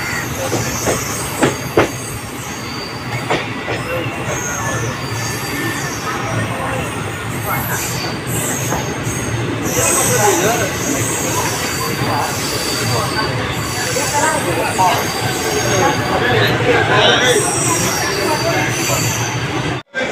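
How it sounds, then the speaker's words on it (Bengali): The Amrit Bharat Express at a station, wheels squealing and carriages rumbling and clacking over the rails, loud and close for a long stretch, with faint voices in the background. "পিছনে যেটা দেখতে পাচ্ছি এটা অমৃত ভারত এক্সপ্রেস"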